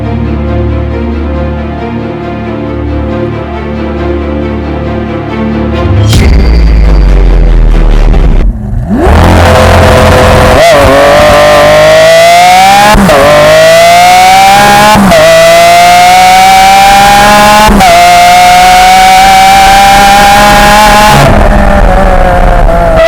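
A Lamborghini Aventador Ultimae's 6.5-liter naturally aspirated V12 idles with a deep rumble, then roars and revs hard again and again, loud and close, pitch climbing with each push.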